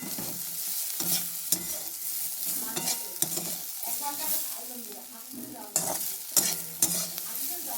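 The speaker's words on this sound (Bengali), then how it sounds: "দেখো সুন্দর করে আমি এটা কি ভাজা করছি বলো তো, এটা হলো গিয়ে আলু ভাজা" Potatoes fry in a pan with a steady sizzle, broken by repeated scrapes and clatters of stirring at close range; no one speaks.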